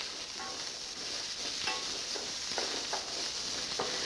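Large white onions sauté in a pan with a soft, continuous sizzle, fairly quiet and steady, with a few faint clicks and pops along the way.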